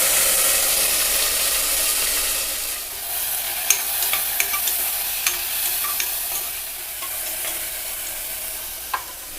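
Finely chopped tomatoes go into a hot pan with curry leaves, setting off a continuous close sizzle with a few sharp spoon clicks.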